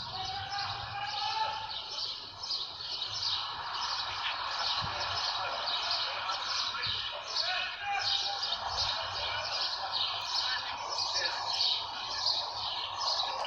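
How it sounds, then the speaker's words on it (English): Birds chirp and tweet faintly in a compact, empty stadium during a mini football match, repeated high calls over a steady hum of distant ambience and muffled thuds, with no crowd noise. "not often you can hear the chirping of birds over any crowd noise"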